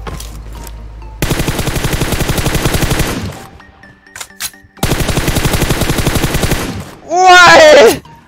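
Rapid automatic gunfire in the mobile battle royale game PUBG Mobile comes in two long, loud, evenly spaced bursts separated by a short quiet gap with faint scattered shots, followed by a brief ringing electronic tone.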